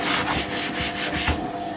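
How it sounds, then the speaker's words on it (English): Pots scrubbed during a household deep clean, a close, continuous rasping scrub in quick repeated back-and-forth strokes, about six in under two seconds, with no talking. "Just once a week, giving these a good scrub, it keeps on top of it."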